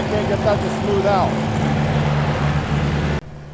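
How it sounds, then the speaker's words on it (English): A John Deere 1010 tractor engine, just rebuilt, runs with a steady low droning hum and a slightly uneven, missing beat. A voice is briefly heard over it before the sound cuts off abruptly. "you might be able to hear the engine is kind of sputtering right now"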